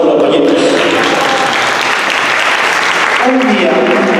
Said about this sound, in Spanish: un aplauso por los pollitos